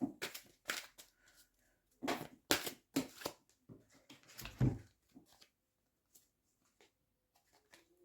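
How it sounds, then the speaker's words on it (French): Tarot cards shuffled and drawn by hand, giving a series of short, crisp riffling and flicking bursts up close, busiest early on and then thinning into scattered light taps near the end. "On va tirer une autre carte dessus."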